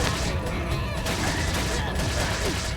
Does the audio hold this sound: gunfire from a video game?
yes